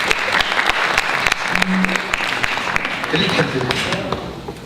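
Steady, loud applause from a conference audience welcomes Hal Yammer as he comes up to talk about USAID's support for Tunisia, filling the room with dense clapping from start to end.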